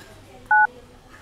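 A single telephone keypad tone, a short clean dual-pitched beep in the middle of a quiet moment with faint background noise.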